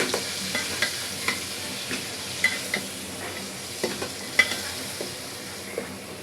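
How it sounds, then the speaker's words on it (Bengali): Chicken and onion fry with a homemade roast spice paste of ginger and garlic: a close sizzle with spoon scrapes and stirring knocks repeating roughly twice a second, with no talking. "পেঁয়াজের সাথে মুরগিটা ভাজে নেব"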